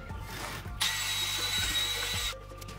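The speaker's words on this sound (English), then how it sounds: "you just want to take your drill, wire wheel, just do that" Power drill fitted with a wire wheel whirring loudly for about a second and a half, scrubbing a car sub-frame bushing, preceded and followed by brief handling clunks.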